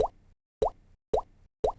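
Four short popping jump takeoff effects made by mouth and layered for a game, each with a brief rising sweep, repeating at an even pace and heard alone without talk.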